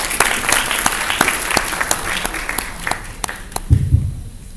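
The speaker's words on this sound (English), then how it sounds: "Give a round of applause." Audience at an alumni meeting breaks into lively applause, dense clapping with sharp individual claps standing out, before it thins and a low voice murmurs near the close.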